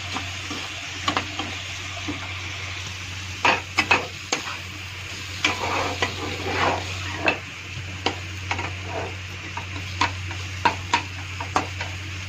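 A spatula repeatedly scrapes and taps a pan while a paste of cumin, ginger and green chili fries, a faint sizzle beneath the regular clinks over a constant background hum.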